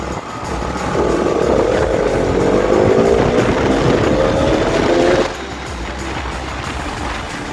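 A heavy motorcycle ridden by a skilled rider roars close by with a steady, loud engine drone whose pitch slowly rises, then drops off sharply as it moves away, leaving a lower background rumble.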